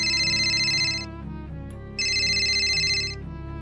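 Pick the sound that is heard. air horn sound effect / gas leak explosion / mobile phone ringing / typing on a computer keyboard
mobile phone ringing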